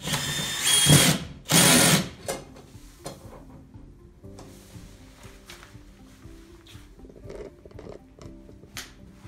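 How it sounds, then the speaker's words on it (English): A power drill or driver drives screws to mount a Sharp 70-inch AQUOS 4K TV, giving two loud whirring bursts near the start followed by quieter ratcheting and mechanical clicks up close. "Let's screw that in."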